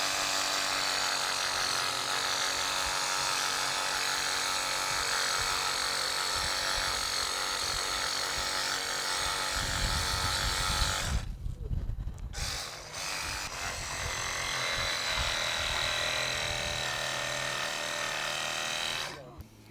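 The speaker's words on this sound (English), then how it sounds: "take the Sawzall, reciprocating saw, and cut that tailbone" A Sawzall reciprocating saw cuts through the tailbone of a game animal during skinning, a harsh, steady buzzing rasp that stops briefly near the middle and then resumes, with voices heard faintly around it.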